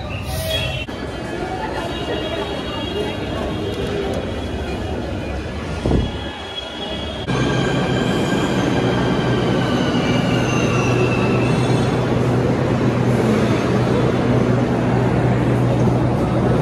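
Delhi Metro train at Shahdara station, a steady rumbling rail roar with wheel squeal and humming, rising louder midway as the train moves, with people talking faintly in the crowded surroundings.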